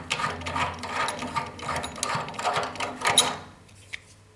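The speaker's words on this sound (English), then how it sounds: "what I'd then do is remove the radiator TRV head" A thermostatic radiator valve head being unscrewed from a radiator, giving a series of close, clicking ratchet-like turns in an uneven rhythm that stop near the end.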